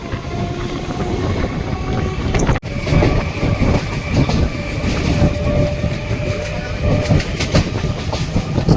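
A local train between Basirhat and Sealdah rolls toward Bahira Kalibari, with steady loud rumble and rhythmic wheel clatter on the rails and one sharp jolt partway through.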